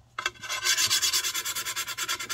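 Rhythmic rubbing strokes of sanding a damp bisqued stoneware platter, about a dozen even back-and-forth passes close up, steady and moderately quiet with no talking.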